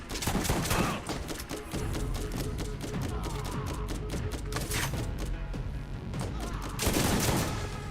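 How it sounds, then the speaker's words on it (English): Video game gunfire in rapid volleys, with dense repeated shots and bursts continuing steadily, loud and close throughout. "Keep shooting!"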